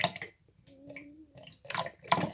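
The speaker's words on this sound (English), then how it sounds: "Now it's time to add the antifreeze" Antifreeze poured into a drain trap while winterizing, heard as close, gurgling liquid splashes in short bursts with quiet gaps between them.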